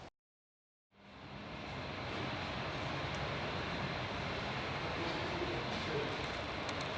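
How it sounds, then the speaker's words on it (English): A model metro train runs over point work on a model railway layout. After a moment of silence, a steady, fairly quiet mechanical rumble and whir rises in and holds evenly to the end. "as the Metro passes over that point work and moves under this where the two wires come together"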